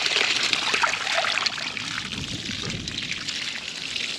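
Water gushing from a 1 1/4 inch pipe fed by an RPS solar pump, a steady, fairly strong broadband rush close by, about the flow of a garden hose, with no talk over it.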